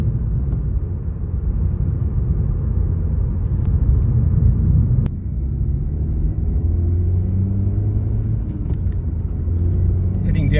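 A 2020 Suzuki Swift Sport with a manual gearbox drives along a mountain pass, a steady low engine and road rumble with tyre noise, rising in pitch later as it accelerates; a person talks over it.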